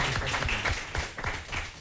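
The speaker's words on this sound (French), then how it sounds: "On l'applaudit" Studio audience applause on a French television quiz show, a short burst of brisk clapping from a small crowd with uneven, rhythmic hand claps.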